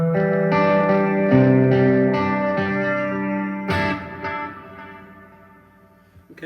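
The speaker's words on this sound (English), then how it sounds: "Okay, that's the delay." An electric guitar runs through the delay of a Line 6 POD HD500X, with sustained notes and echoing repeats that ring on and fade away near the end, with no voices.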